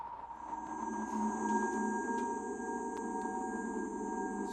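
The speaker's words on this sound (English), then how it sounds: "they just recorded radio emissions from the sun" A steady, eerie electronic drone of sonified radio emissions from the sun, with a high whistling tone and a low hum, continuous and unchanging.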